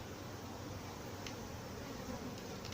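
A steady, dense buzzing drone of bees fills the clip, loud and continuous like a swarm nearby, as they are moved from an owl box to a nuc box, with no speech.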